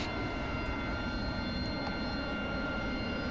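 Steady, loud jet engine roar from an F/A-18C Hornet or AV-8B Harrier on carrier landing approach in a flight simulator game, a continuous unbroken drone with a faint high whine.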